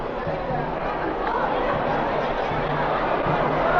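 A large crowd chatters beneath a bridge at a dragon boat race in GaoYao, China, a dense and continuous babble of many voices that stays loud and even throughout.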